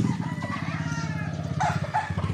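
A Boston rooster on a farm crows loudly nearby in one long drawn-out call, with some clucking and farmyard noise around it.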